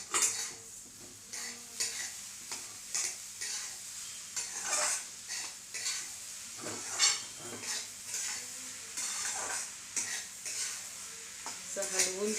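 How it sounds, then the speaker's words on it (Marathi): Sweet vermicelli sheera with sugar and cardamom is stirred in a pan with a metal spoon, giving repeated close scraping and clinking strokes over a soft sizzle, steady and rhythmic for the whole stretch without talk. "असं हलवून त्याला जरा खालीवर करून थोडं साखर विरघळून घ्यायची त्याच्यातली"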